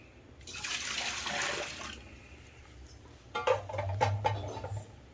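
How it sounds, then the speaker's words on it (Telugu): Water is tipped off freshly made paneer, a close splashing pour that swells for a couple of seconds, eases, then returns as a burst of running, spattering water. "ఈ నీళ్ళు పారేసేయాలండి."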